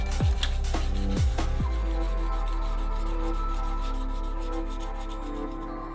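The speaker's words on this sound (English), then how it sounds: "Back into the workshop to do some sanding" A handmade knife blade is sanded in a workshop, opening with a few quick rasping strokes before settling into a steady, loud, continuous abrasive whir with no talking.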